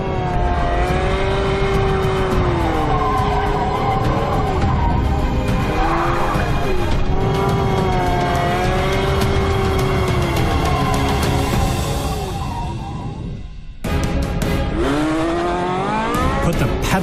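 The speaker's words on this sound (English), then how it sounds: "and all 3 motors come roaring to life." Porsche 918 Spyder hybrid supercar accelerating hard with all three motors, a loud close engine roar climbing through several sweeping gear pulls, a brief lift and dip near the end before it surges again.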